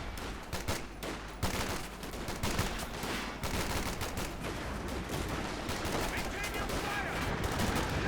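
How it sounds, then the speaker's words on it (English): .50 caliber machine gun fire in a real-time strategy battle game, dense overlapping gunshots and bursts forming a continuous loud din of combat, with a voice faintly present underneath. ".50 caliber coming from the north."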